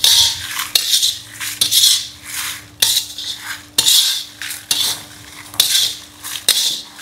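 Coriander seeds, black pepper and curry leaves dry-roasting in a pan for sambar powder, stirred with a metal spoon that scrapes and clinks against the pan in steady, repeated strokes, close and fairly loud, with no talking.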